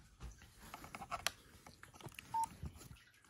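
A little old phone beeps on a desk among a collection of old devices: a few quiet, clipped electronic tones, with one longer steady beep near the end over faint handling noise.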